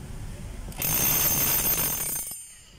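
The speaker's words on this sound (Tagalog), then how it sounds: "So malakas po yung hammer niya mga kabay." A DeWalt D25032 rotary hammer running in hammer mode, a loud, harsh, buzzing hammering burst that kicks in after quiet low noise, holds steady for about a second and a half, then cuts off.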